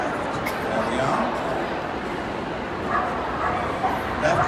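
A working trial dog being sent left toward its toy during a redirection display at Crufts, barking and yipping excitedly in an echoing arena over crowd noise and talk.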